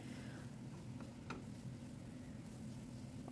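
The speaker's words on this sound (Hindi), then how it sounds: "अब जो है इन मसालों को जो है अच्छी तरह से प्याज के साथ थोड़ी देर भूनेंगे" Ground spices fry with onion in oil in a pan, a faint, steady sizzle with occasional soft stirring scrapes and clicks, heard alone at low volume.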